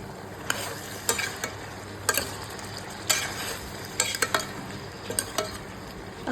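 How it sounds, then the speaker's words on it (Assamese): Small potatoes are stirred into broiler chicken frying in a kerahi: a soft continuous sizzle broken by repeated sharp spatula scrapes against the pan, close and irregular. "মাংসখিনি ভালদৰে অকণমান সিজিবলৈ দি যেতিয়া পানীটো শুকাই গ'ল মাংসৰ পৰা, তেতিয়া মই ইয়াত কাটি থোৱা আগতে আলুখিনি এইদৰে মিক্স কৰি দিছোঁ।"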